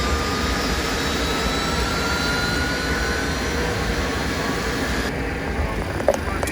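Number 3 jet engine of a rare Boeing 747 spools up during start: a loud, continuous roar and whine fills the cockpit, steady throughout with a faint click near the end.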